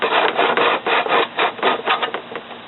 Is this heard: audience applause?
no